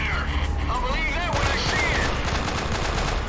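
Rapid automatic gunfire in the Delta Force: Black Hawk Down video game, loud and close, bursts of shots rattling continuously with whistling game effects at the start.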